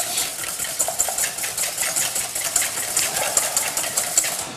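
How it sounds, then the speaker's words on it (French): Eggs and sugar whisked vigorously in a bowl for a chocolate moelleux batter, a steady rapid scraping and clicking rhythm, fairly close and continuous, with no talking over it. "je casse mes œufs sur le sucre, je mélange bien énergiquement"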